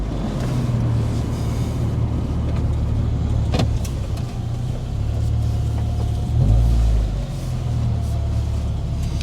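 A Lotus sports car driving on a country road, its engine a steady close rumble throughout with slight shifts in tone and no talking.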